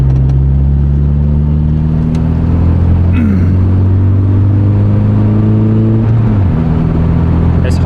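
A Mk2 VW Golf engine is driven hard and heard from inside the car, a loud, steady droning rev that climbs through a gear, dips briefly at a shift, then pulls on again.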